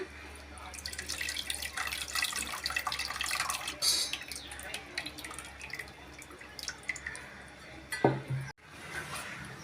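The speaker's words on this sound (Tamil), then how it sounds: "கொஞ்சமாக புளி தண்ணி சேர்த்துக்கலாம்" Tamarind water is poured into a pan with splashing and dribbling, a few light clinks, and a sharp knock near the end.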